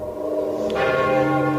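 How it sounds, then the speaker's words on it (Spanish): Church bells toll at night, a sustained ringing with layered harmonic tones that swell and linger, fairly loud and alone with no voices. "De nueva cuenta, escuchamos aquellas campanadas."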